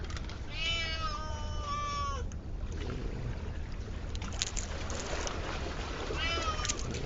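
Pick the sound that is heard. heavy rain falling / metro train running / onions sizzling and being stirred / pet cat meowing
pet cat meowing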